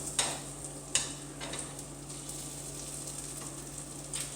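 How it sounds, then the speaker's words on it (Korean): Pork belly stir-fries with aged kimchi in a pan, giving off a soft, steady sizzle throughout, with a couple of sharp utensil clinks near the start. "묵은지 삼겹살에 묵은지 기름에다가 볶아서 먹으면 맛있어"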